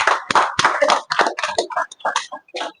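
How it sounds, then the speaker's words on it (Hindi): A small audience claps at a family gathering, a close, uneven patter of hand claps that comes in irregular bursts and thins out toward the end. "चलिए एक बार फिर से ताली बजा दीजिए भाई सब लोग"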